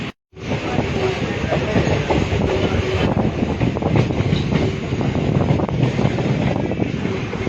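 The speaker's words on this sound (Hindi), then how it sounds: "ଇହାଦେ ଆପଣମାନେ ଦେଖିପାରୁଥିବେ ଟ୍ରେନ୍ ଆଗକେ ମାଡ଼ି ଚାଲିଛି।" A passenger train rolls along the railway after leaving Narsinghgarh station, giving a continuous loud rumble with faint clickety-clack and wind buffeting the microphone, heard close from on board without talk.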